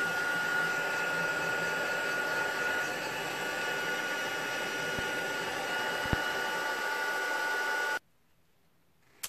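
Heat tool melting embossing powder for a stamped Christmas card, a steady loud whirring blower hum with a constant tone that runs for about eight seconds, then cuts off abruptly into near silence.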